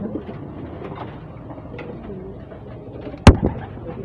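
Pigeons kept as breeding stock coo softly in a loft, low murmuring calls under a faint background bustle, broken by one sharp loud knock near the end.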